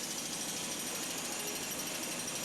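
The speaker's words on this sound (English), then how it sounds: "Holes are drilled into the rock, and the rods are inserted and tightened down" A rock drill bores holes in tunnel rock for rock bolts, giving a steady, fairly faint rattling drone that carries on without a break.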